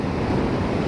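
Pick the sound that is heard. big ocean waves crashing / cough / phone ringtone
big ocean waves crashing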